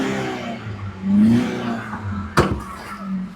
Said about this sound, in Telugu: సరే, ఇంజిన్ స్టార్ట్ చేసి చూపిస్తాను.